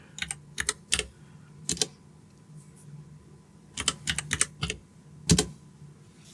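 Typing a command on a computer keyboard in a workshop while setting up and adopting a network device: bursts of quick, crisp key clicks in several clusters with short pauses between them, close and moderately loud over a low room hum.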